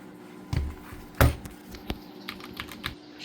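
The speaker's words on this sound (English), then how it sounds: "we are going to do a little bit of typing" Typing on an Epomaker x Gateron mechanical keyboard, a few loud thocky keystrokes followed by lighter, quicker clicks, close and alone over faint room hum.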